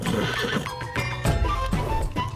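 Horse neighing, a close, loud, shaky whinny repeated in several bursts over about two seconds with faint hoof movement.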